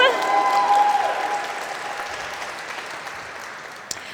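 Audience at a poet laureate swearing-in ceremony clapping, loud applause at first that gradually thins and fades, with a faint tonal hum early on and a single sharp knock near the end.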